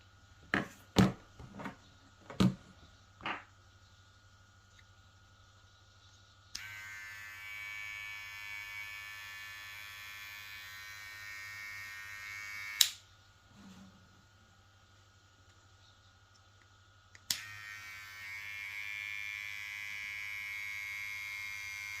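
A VGR V008 hair clipper runs during an RPM test: a few sharp clicks and knocks, then a steady high electric buzz that switches off briefly and starts again, close and alone.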